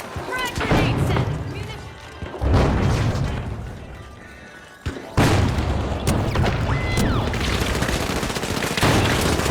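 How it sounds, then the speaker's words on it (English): A frag grenade goes off in a chaotic online shooter firefight, with sharp booms and bursts of gunfire stacked over busy battle noise, loud and repeated across the stretch. "Frag grenade set."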